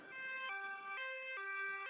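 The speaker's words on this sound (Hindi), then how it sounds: "एम्बुलेंस लाडो को लेकर अस्पताल की तरफ निकल पड़ती है" An ambulance siren alternates between two pitches in a steady hi-lo pattern, clear but somewhat distant.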